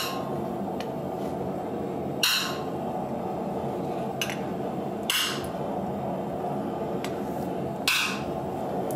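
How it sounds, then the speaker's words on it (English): A curved steel piece is clamped down in a metal workshop, giving a few sharp metallic clanks and knocks spaced seconds apart over a steady background hum. "I'm gonna clamp that down."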